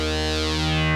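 A steady ASM Hydrasynth Explorer synthesizer tone through a ladder low-pass filter, its sharp resonant peak sweeping slowly downward, giving a whistling, ringing edge over a dense harmonic buzz.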